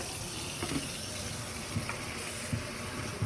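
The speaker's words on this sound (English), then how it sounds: "Put some more water in it." Water pours from a tap or pitcher into a pot of cooking beans, a soft continuous trickle and splash with faint bubbling taps, fairly quiet and without talk.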